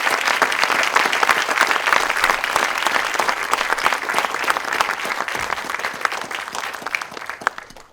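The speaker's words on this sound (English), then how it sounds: "I want the round of applause to go to these folks because they rock, you guys." Audience applause at an awards event in San Diego, a dense, steady burst of clapping from a sizeable crowd that holds strong for several seconds and then gradually thins out.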